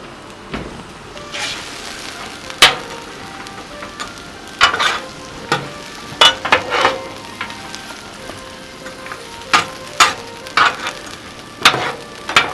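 Vegetables stir-fry in extra virgin olive oil on a Blackstone griddle, a soft continuous sizzle broken by irregular sharp scrapes and clacks of a spatula tossing them, close and fairly loud, with no talking.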